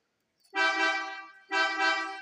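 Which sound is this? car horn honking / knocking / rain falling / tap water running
car horn honking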